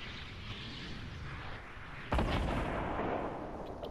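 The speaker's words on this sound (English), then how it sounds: "Both these tryhards are using rocket launchers." A single rocket launcher explosion in a video game, a sudden loud boom that rolls off into a rumbling tail over a steady background of game noise, with no talk.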